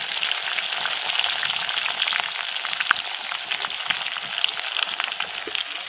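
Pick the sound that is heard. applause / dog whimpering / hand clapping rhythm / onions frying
onions frying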